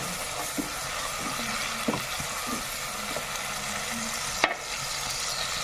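Long beans sizzle and stir-fry in a pan with galangal for a Javanese lodeh vegetable dish, a continuous hiss punctuated by a few sharp clinks of the utensil against the pan.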